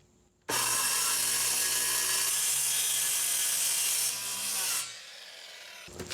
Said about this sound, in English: that's as far as I can get with the saw